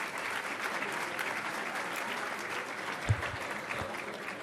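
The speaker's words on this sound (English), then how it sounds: "I think we should give them a round of applause." A crowd at a New York City civic event applauds steadily, a dense, even wash of clapping heard alone, with a brief thump near the end.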